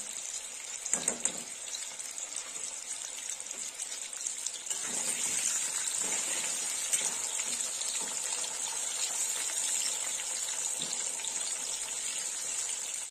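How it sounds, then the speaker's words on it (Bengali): Potatoes frying in a generous amount of oil for an egg curry, a steady close crackling sizzle that grows slightly louder and denser partway through, with no talking. "আলুটা একটু বেশি তেলেই ভেজে নেব।"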